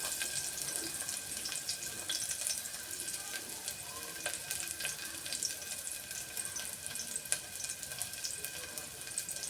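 Shallots fry in hot oil on a high flame for Kerala kalathappam, a dense, even crackling sizzle that stays constant throughout with small pops.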